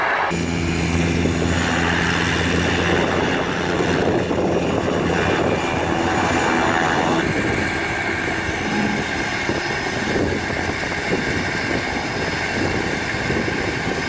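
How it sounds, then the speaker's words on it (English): An agricultural plane spreading lime on a field roars with a loud, steady engine drone that holds for the whole stretch, close and unbroken, with no voices. "We're putting on Lime today, so you might want to see the plane in action."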